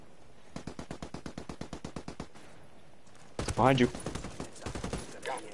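In Ghost Recon, an automatic weapon empties a magazine in a quick, evenly spaced string of roughly sixteen sharp shots lasting about two seconds, followed by a louder blast as a voice talks over it.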